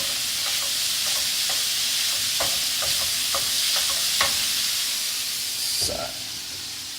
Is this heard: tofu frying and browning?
yes